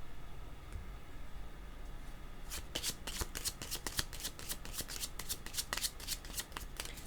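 Tarot cards are shuffled. After a quiet start the cards give a rapid, fairly even run of crisp riffling flicks that goes on to the end, close and clear with no voice.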